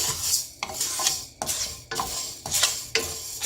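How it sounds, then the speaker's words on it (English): Raw Sona Masuri rice, about 50 grams, dry-roasted in a pan and stirred in steady rhythmic strokes, a loud close gritty rasp of grains scraping across the metal, repeating roughly every half second. "Here I have taken rice, raw rice, about 50 grams. That is also being roasted."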